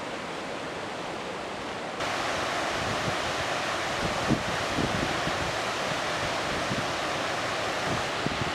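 Kuntala Falls pours in a forest, water cascading down two levels and splitting through rocks. A steady, broadband rush fills the clip, growing slightly louder and denser after a moment, with no voices.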